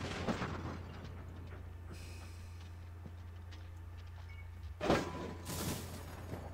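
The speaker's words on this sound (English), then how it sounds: "now we should just be able to blow this up" Explosion in the Obduction adventure game: a low rumbling hum gives way to a sudden loud blast with a short rolling tail, with no talking.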